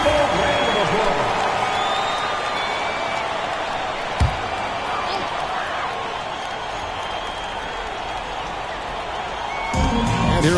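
Crowd applause at a basketball game, a broad, continuous wash of clapping and cheering from a large arena audience, with scattered whoops, a brief thump, and an announcer's voice underneath.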